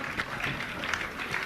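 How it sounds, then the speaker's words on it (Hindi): A crowd at a Jain religious discourse session with Praman Sagar Ji Maharaj applauds on a cold day to honour volunteers, a dense, steady wash of clapping that runs unbroken through the moment. "जोरदार तालियों से इन सभी कार्यकर्ताओं का एक बार सम्मान कर दें"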